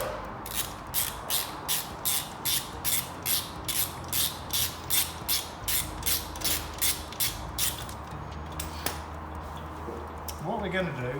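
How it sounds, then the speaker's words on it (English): Rapid, steady ratchet clicking from a hand wrench removing a wheel stud under a caravan chassis, about twenty even bursts repeating close to the microphone, then stopping with a short clatter near the end. "we've got to remove one of the wheel studs and replace it"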